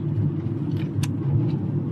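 Car, a camper van, rolling along an asphalt road after desert tracks, heard from inside as a steady loud low engine and tyre rumble with no talk.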